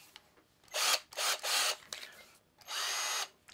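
A Hart cordless drill, a sibling to Ryobi made by TTI, whirs in four short bursts, near and fairly quiet, with brief pauses between runs.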